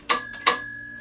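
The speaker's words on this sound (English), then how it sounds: "and it has a little bell" The little bell on a Fisher-Price toy snail house rings twice in quick succession, two bright, close metallic dings that decay fast and leave a faint ringing tone.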